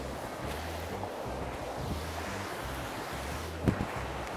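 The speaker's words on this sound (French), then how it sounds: "Toujours le vent, hein." Wind gusting outdoors during a large-format long-exposure photo shoot, buffeting the microphone as a steady broadband roar with low rumbling pulses and a brief knock near the end, no talking.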